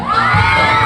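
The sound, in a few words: audience shouting and cheering at concert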